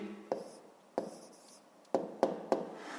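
A pen writes an answer on paper, making a few sharp taps and short scratchy strokes in an irregular rhythm against a quiet room.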